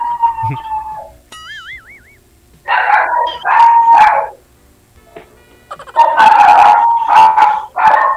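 A dog barks and yelps in several loud bursts, with a short whistling tone between them and gaps of near silence.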